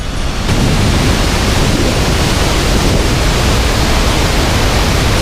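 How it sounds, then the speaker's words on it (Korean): Gullfoss waterfall in Iceland roars from close below, a dense, steady wall of rushing, crashing water with spray, loud and unbroken throughout with no voices. "폭포가 아래에서 보니까 무지개가 완전 다리야 다리"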